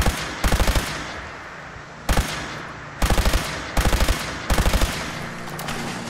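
Unsilenced gunfire in Fallout 4, sounding as repeated bursts of rapid shots in five clusters separated by brief pauses, loud and close with no talking.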